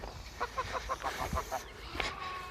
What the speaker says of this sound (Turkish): Burada da kazlarımız ve civcivleri var.